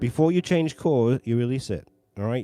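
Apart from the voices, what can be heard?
None of the usual background noises is heard.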